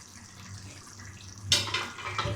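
Water is poured into a pan of mutton kofta gravy: a sudden splashing gush starts partway through, loud and close, after a quiet stretch of faint kitchen background.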